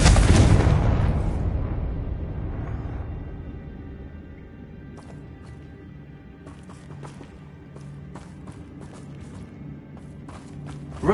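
Confringo spell explosions in the video game Hogwarts Legacy: a loud booming blast at the start that rumbles and fades over several seconds, followed by quieter crackles and small pops.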